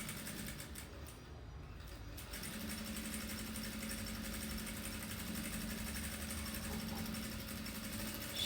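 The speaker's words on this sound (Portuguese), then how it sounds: "Costuro mais um pouquinho pra tirar aqui o excesso" An industrial straight-stitch sewing machine runs steadily, sewing bias binding through a binding attachment onto fabric, with a continuous even whir and a brief slowdown before speeding up again.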